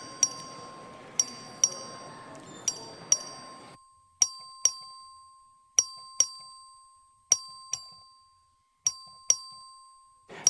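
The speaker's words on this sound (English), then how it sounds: "The clerk will ring the bell." The voting bell in the Texas House chamber is struck repeatedly, producing about fifteen bright metallic dings in an uneven rhythm, each ringing clearly and decaying. Faint room murmur fills the start before the hall goes quiet.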